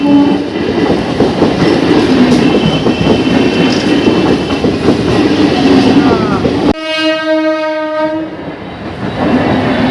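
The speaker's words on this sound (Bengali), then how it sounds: "এদিক দিয়ে ট্রেন আবার এদিক দিয়ে ট্রেন" A train rumbles loudly past a level crossing where trains run in both directions, a dense roar with wheel clatter that cuts off suddenly, followed by a sustained multi-tone train horn blaring close by.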